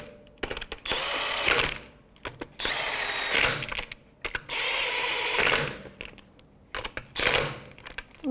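An impact-style power tool snugs up lug nuts with a lock socket on a 2010-2015 Lexus RX350 wheel, firing in four or five rattling bursts of about a second each with brief gaps between.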